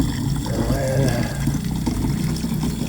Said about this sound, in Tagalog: lalagyan ko yan ng tubig